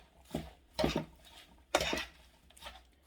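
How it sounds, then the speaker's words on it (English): Fork mixing a black bean salad in a bowl, a few separate scraping clinks of metal on the dish with quiet pauses between strokes, close and soft. "So then I just use my fork. Just kind of mix it up."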